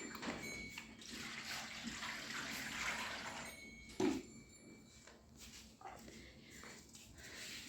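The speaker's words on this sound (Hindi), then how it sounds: "मम्मी डाल रही हैं पानी इनको।" Water poured out for cows to drink in a village yard, a steady splashing wash that runs throughout, with a brief knock near the middle and a voice talking over it.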